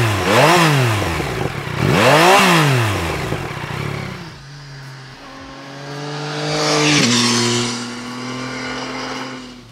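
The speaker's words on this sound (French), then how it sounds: "Le moteur est puissant, il vous tire sur les bras et c'est vraiment pas mal." A Yamaha XSR 900 motorcycle engine revs hard twice in quick succession, loud and close, then settles into a steady idle before a third swelling rev rises and falls.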